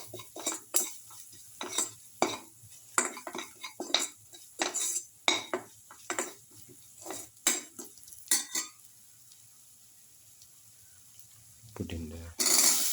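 A spoon stirs spice mix through food in a cooking pot, giving repeated scraping, clinking strokes in a steady rhythm, close and fairly loud, with a brief pause near the end.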